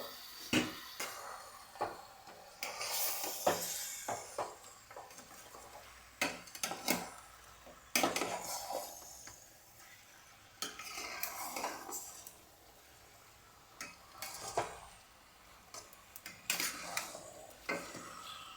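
Chicken tipped into a curry pan and stirred, with repeated clattering scrapes and knocks of a spoon against the metal pan over a faint sizzle, in uneven bursts close by.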